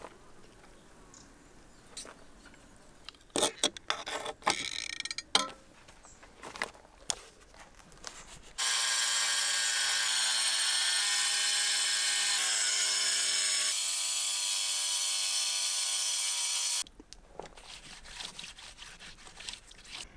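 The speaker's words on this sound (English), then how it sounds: "I found the blade of the grinder is wearing out pretty fast cutting this granite" An angle grinder cutting granite during renovation of an old ruined house, a loud continuous high whine of about eight seconds with a slight drop in pitch, set between scattered knocks and handling clatter.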